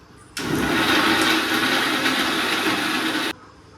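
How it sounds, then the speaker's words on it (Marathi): Electric mixer grinding masala spices finely gives a loud, steady whirring roar that starts abruptly, runs about three seconds close by, then cuts off sharply. "हे बघा असा मसाला सगळा बारीक करून घ्यायचा"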